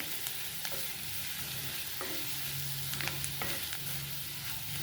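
Ginger, garlic and dry coconut paste fries steadily in a pan for a spicy aloo mutter bhaji, a continuous close sizzle broken by a few sharp stirring scrapes and clicks, with no talk.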